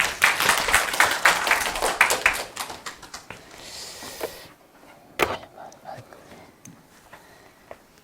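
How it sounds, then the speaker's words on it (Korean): Audience applause welcoming a speaker at a Gyeongsang National University social science lecture, a dense burst of clapping that fades out over several seconds, with a lone sharp clap afterwards. "큰 박수로 맞이해주시고"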